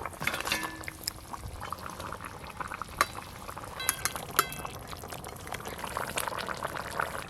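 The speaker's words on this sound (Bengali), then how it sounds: "গ্রেভি ভালো করে ফুটে গেছে" Bengali fish curry gravy with potatoes, for a spicy oil-based silver carp dish, bubbling in a pot on the stove, a soft continuous simmer with scattered pops and a few sharp clinks of a spoon against the pot.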